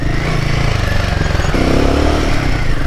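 Royal Enfield Himalayan 450 motorcycle engine chugging steadily at half throttle in first and second gear while riding offroad through ruts, loud and close, with wind rush and no talk.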